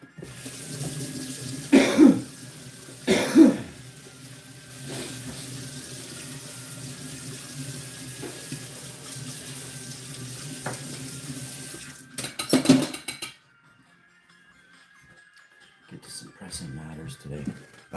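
Tap water runs steadily as something is rinsed underneath, a close, continuous hiss that stops near the end, broken by a few coughs and bumps.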